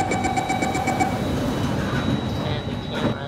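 Train rolling through a subway-style station in a video game, a rumbling hum with a faint steady tone and rhythmic clicking, moderately quiet and heard alone.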